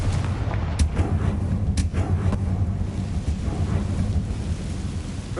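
A Confringo blasting-curse explosion in the Hogwarts Legacy video game: a steady, low rumbling roar at moderate loudness, broken by a few sharp cracks early on.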